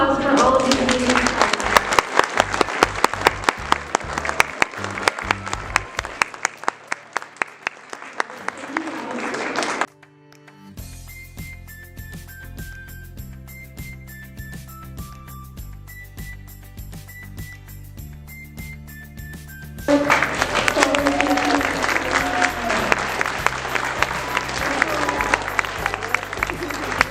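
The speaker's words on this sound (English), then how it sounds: "Big round of applause for all of these amazing scholars." A crowd claps for student scholars at a school awards ceremony. Loud applause fills the opening, then drops away into a quieter stretch of music, and the clapping surges back near the end.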